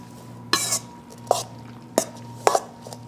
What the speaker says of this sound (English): now I'm just going to stir this all together